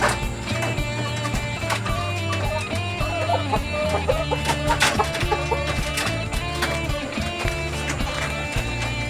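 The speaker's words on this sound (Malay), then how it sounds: "dan juga apa tu, ayam Rhode Island Red" Rhode Island Red chickens cluck in a coop among other fowl, a busy, steady chorus of clucks and calls heard close up with no talk over it.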